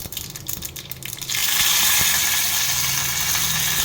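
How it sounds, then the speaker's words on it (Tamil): Mustard seeds hit hot oil in a pan for tomato chutney: a faint crackle first, then a sudden loud, steady hiss and fine sputter that keeps going. "கடுகு போட்டாச்சு. கடுகு நல்லா பொரிஞ்ச உடனேயும்"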